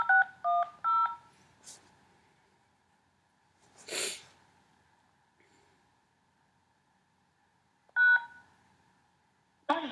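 Telephone keypad DTMF tones enter a phone number: a quick run of beeps, a pause with a breathy noise, then another beep near the end, all fairly clear over a quiet background.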